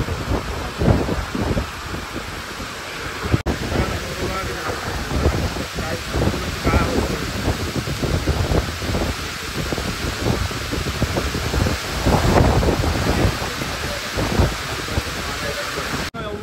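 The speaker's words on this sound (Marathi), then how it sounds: "पाऊस लागला आहे." Steady heavy rain hisses throughout during a storm on the Arabian Sea, a dense wash of noise with faint voices underneath.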